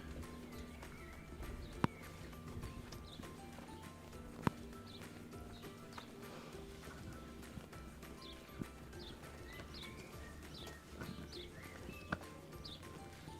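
Donkeys walking out toward grazing fields, their hooves clip-clopping in a steady, moderately close rhythm, with a few sharper knocks among the quieter steps and faint birdsong behind.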